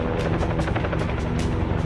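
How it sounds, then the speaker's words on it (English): A helicopter thunders close by, its rotor blades beating in a fast, steady chop that dominates everything. "There was a helicopter that we could hear that was getting closer and closer and closer"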